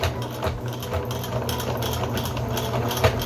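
A sewing machine stitches across the end of a fabric rug made from recycled clothing, giving a steady mechanical whirring hum with faint rhythmic clatter, close and continuous.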